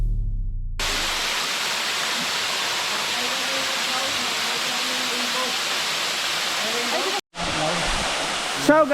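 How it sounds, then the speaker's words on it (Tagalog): Kauitan Falls on the Capacuhan Trail in Calbayog roars steadily, with broad, loud rushing water close by and only a brief break near the end. "this is the first waterfall"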